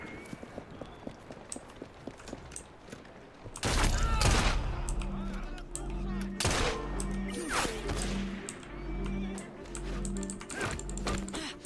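Gunfire in the video game Assassin's Creed Syndicate, with bursts of loud shots crackling after a quieter stretch of footsteps and clicks, mixed with horse hoofbeats and a low rumble of in-game action.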